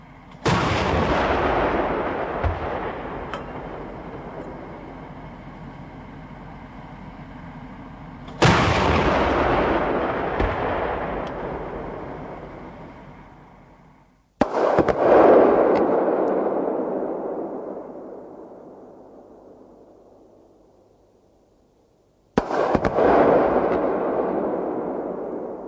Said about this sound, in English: The 3P rounds are now programmed for armor-piercing function to detonate behind the wall